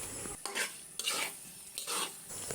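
Fried chicken pieces are turned into a spice paste in a pan for chicken roast, making three soft scraping and sizzling strokes from the spoon against the pan, quiet and close.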